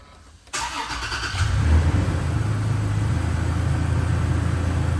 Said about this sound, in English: ahead and start the truck.